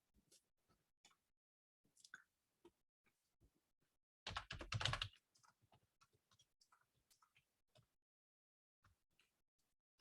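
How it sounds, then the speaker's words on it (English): Scattered clicks of typing on a computer keyboard, faint and sparse, with one short louder burst of clatter in the middle. "People will see me typing in the notes."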